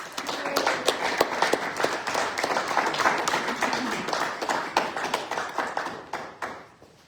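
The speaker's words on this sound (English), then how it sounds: "let's give her a big round of applause" Audience applause at a Sunday church service honoring a reverend: a steady, fairly close crowd of hands clapping for about seven seconds, tapering off toward the end.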